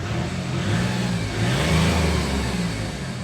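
A VW Polo TDI diesel engine runs steadily and close by, a low rumbling drone with a slight swell in revs midway, no voices.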